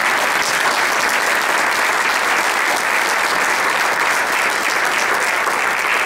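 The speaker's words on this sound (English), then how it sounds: "please give them a round of applause" Audience applause at a community college evening event, a dense, even wash of clapping that holds steady and fairly loud for six seconds with no pause.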